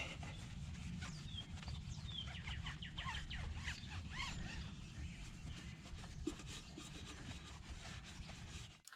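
Van rims are wiped with a cloth and Turtle Wax chrome polish in quiet, steady rubbing strokes. Birds chirp faintly in the background and no one talks.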